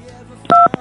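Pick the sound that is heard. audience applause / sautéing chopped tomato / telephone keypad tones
telephone keypad tones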